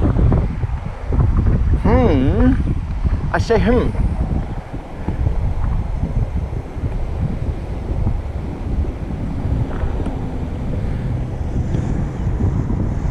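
Strong wind buffets the microphone with heavy low rumble throughout on a mountain bike trail, while people talk briefly over it outdoors.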